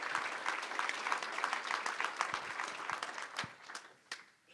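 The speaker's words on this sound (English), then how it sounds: "a round of applause for yourselves" Audience at a mayors' lunch event gives a round of applause, dense steady clapping that fades out over a few seconds, fairly distant and moderately quiet.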